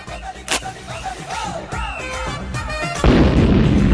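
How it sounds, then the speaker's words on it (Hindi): A firecracker bomb bursts in someone's hand, a sharp loud bang near the start followed by crackling, whooshing bursts and a heavy roaring blast at the end, all close and loud. "ये बम ना मैं हाथ में फोड़ सकता हूँ"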